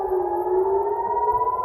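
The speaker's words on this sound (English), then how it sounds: "air raid sirens blared through Jerusalem" An air raid siren wails over Jerusalem during an Iranian missile attack on Israel, a loud, steady, sustained tone that holds without a break and with no voices.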